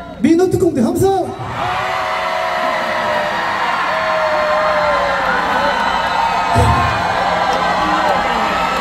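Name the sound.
festival crowd cheering and shouting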